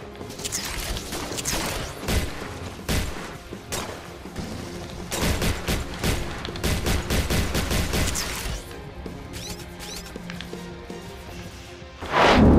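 Rapid bursts of gunfire and crashing impacts from the G.I. Joe: Operation Blackout video game, loud and dense with volleys throughout, pausing briefly before a sharp final burst.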